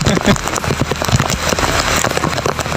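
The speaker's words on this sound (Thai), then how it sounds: "ฝนนะครับขึ้นตกหนักมากนะครับ" Heavy rain pours down during river rafting on rapids in Satun, Thailand, as a dense, constant wash of drops with splashes and scattered knocks close by.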